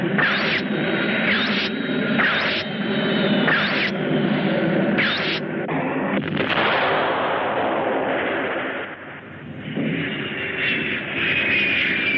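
Jet planes open fire with their weapons in a 1966 monster film, a dense, continuous roar of gunfire and blasts with sharp repeated bursts over a heavy rumbling bed, loud and close throughout.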